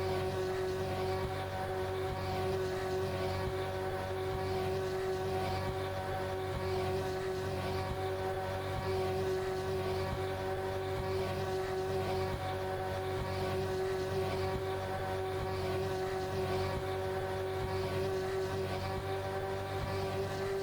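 Simulated car engine in Assetto Corsa pushed into detonation by over-advanced ignition timing, a steady droning engine tone with faint repetitive knocking throughout, continuous and unbroken.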